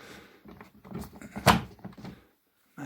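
Door of a Mac Allister wood shredder being shut, a few soft handling knocks leading to a sharp close clunk, then quieter rattles and silence before another faint bump.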